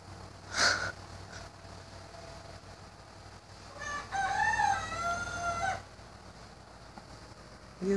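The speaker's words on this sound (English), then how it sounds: "You silly chicken." A hen clucks and crows in a short burst near the start and again in a longer, harmonic run mid-clip, over a steady low hum with no talking.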